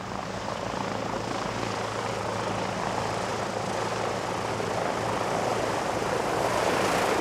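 An aircraft taxiing on the runway at the Canterbury Aero Club, its engine giving a steady, even drone that grows slightly louder toward the end, with no talk.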